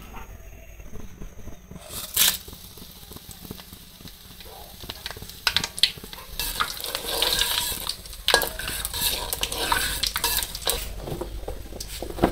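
Panch phoron, cardamom, cinnamon, dried red chili and bay leaf sizzle in hot oil while making a village-style sour mango pickle, with a steady crackling hiss and scattered scraping stirs of a utensil against the pan.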